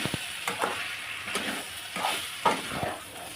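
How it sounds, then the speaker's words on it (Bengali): Desi chicken being stirred and fried in a pan while cooking Bengali-style kosha, with a steady sizzle broken by several scraping stirs of a spatula. It sounds close, and no one speaks. "আমি ভালো করে চিকেনটার সঙ্গে মিলিয়ে নেব উল্টিয়ে পাল্টিয়ে। আবারও আমি হালকা করে কষিয়ে নিয়েছি।"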